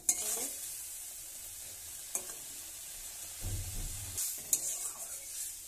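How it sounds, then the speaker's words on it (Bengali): Mustard-cumin paste is stirred in a pan just before water goes in: faint scraping and light sizzling, with a few sharper clicks of the utensil against the pan. "দিয়ে একটু হালকা নেড়ে এতে জল ঢেলে দেবো"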